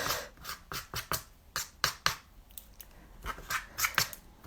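A brush rasps through frayed macramé cord, shaping it into a feather for earrings, in quick, close, irregular strokes, some in rapid pairs, with no voices.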